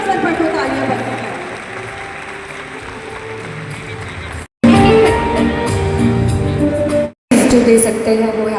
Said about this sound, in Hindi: तालियां बजनी चाहिए, इस अवसर पर तो तालियां बजनी चाहिए।